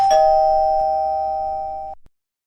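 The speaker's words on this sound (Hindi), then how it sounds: "फिर अचानक उनके घर की घंटी बजी" A single electronic doorbell chime rings loud and clear, holding one steady tone that slowly fades before cutting off, with no other sound around it.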